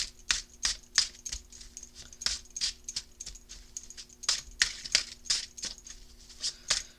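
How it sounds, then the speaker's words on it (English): Rapid, crisp riffling clicks in irregular bursts as tarot cards are shuffled close by, with a faint steady hum underneath. "Sorry about all the shuffling."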